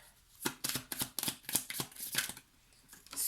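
A tarot card drawn from a shuffled deck gives a run of crisp papery flicks and snaps, close and moderately loud, with brief pauses between bursts.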